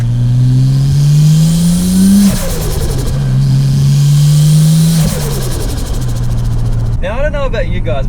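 Engine of a car fitted with an RB25 bolt-on turbo kit revving loudly and close, climbing in pitch in two long pulls with a steady drone between, then easing off near the end.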